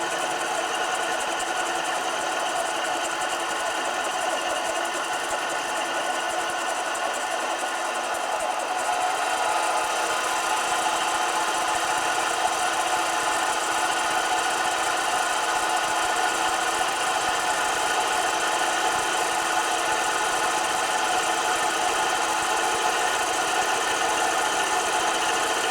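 A 7x10 variable-speed mini lathe takes a cut of about twenty thousandths of an inch, running as a steady, even mechanical whine and hum that holds unchanged for the whole stretch, with no voices.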